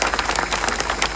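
A crowd at a Kshatriya community gathering in Ribada claps for Anirudhsinh Jadeja, producing a brief burst of steady, dense applause at moderate loudness.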